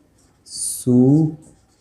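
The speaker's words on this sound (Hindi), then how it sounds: "मैं ऊपर लिख दे रहा हूँ" Marker or chalk writing on a board in a geography lesson, a short scratchy stroke lasting about half a second, followed by a brief spoken voice.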